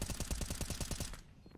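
Rapid automatic gunfire in a Counter-Strike: Global Offensive match at IEM Dallas 2022, a dense burst of about a dozen evenly spaced shots over a second, loud and close, then cutting off into near silence.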